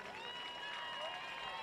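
A stadium crowd at a varsity high school football game claps and cheers for the homecoming royalty, a steady wash of applause with a few whistles over the top and no pauses.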